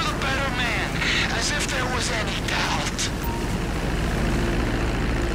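A propeller airplane in the video game GTA V drones loudly and continuously, its engine tone wavering and sweeping close by over steady background roar.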